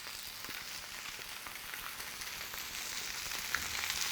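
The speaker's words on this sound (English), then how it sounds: "Just lay the fish in and let it do its thing." Fish sizzles skin side down in hot oil in a pan, a steady close crackling hiss with scattered pops, continuous and unbroken by speech.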